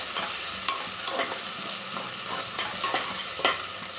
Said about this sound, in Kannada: ಒಂದು 2 ನಿಮಿಷ ಫ್ರೈ ಆಗಲಿ.